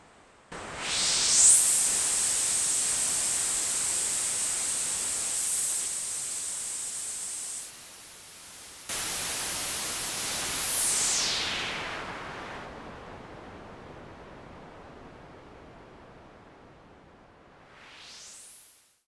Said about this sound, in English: Let's now bring in the noise generator.